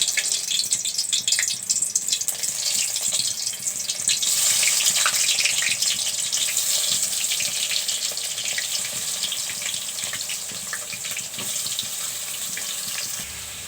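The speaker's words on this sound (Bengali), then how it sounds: "এখন আমি এখানে পটলগুলো দিয়ে দিব তেলের মধ্যে" Pointed gourd frying in mustard oil in a wok, giving a steady, bright hiss and crackle that carries evenly throughout, close and fairly loud with no voices over it.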